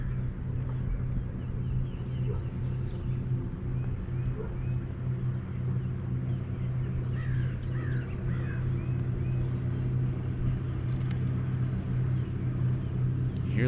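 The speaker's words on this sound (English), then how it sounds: "You hear those boats running in the background." Low, steady outboard motor drone from boats running in the background on a lake during a bass kayak fishing tournament, a continuous rumble with faint bird chirps above it and no talking.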